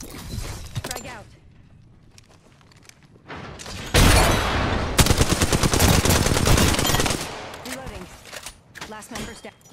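Rapid gunfire in the video game Apex Legends on the Kings Canyon map comes as loud, dense automatic bursts mixed with booms, with game voice callouts around the shooting.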